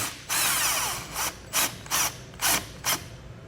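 A 13 mm socket wrench loosening a battery terminal nut on a 2019 Jeep Wrangler, a sustained ratcheting whirr followed by four short, sharp ratchet bursts, close and clear.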